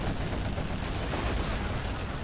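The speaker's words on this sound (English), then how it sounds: "Massive explosion going off inside of this village." A massive explosion inside a village in the Generals Evolution strategy game, heard as a dense, continuous roar of blast noise and rumble that stays loud throughout the short span.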